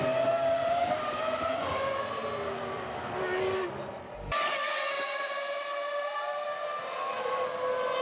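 A 2001 Formula 1 car screams at full throttle at Monza during the Italian Grand Prix, its high, piercing engine note rising through the gears. One brief shift dip comes before the loud, sustained wail resumes.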